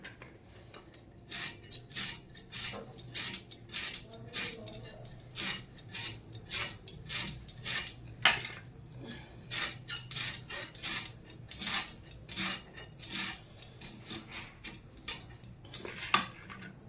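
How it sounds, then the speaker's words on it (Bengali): A knife slicing cucumber into rounds on a board, a quick close rhythm of crisp chops and taps repeating steadily for many seconds. "এগুলো গোল গোল করে কাটবো শশা"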